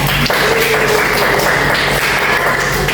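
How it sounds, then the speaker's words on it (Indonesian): Applause from a classroom of students, a dense continuous patter of hand claps filling the room at full loudness for several seconds. "Beli aplaus buat dia baca."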